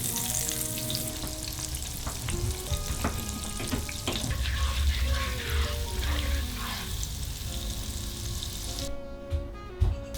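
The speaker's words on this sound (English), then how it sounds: "Heat the olive oil in a large pan over medium heat. Add the butter and let it melt completely." Butter melting into hot olive oil in a large pan over medium heat gives a steady close sizzle and crackle that runs throughout, with a few faint knocks, then drops away briefly near the end.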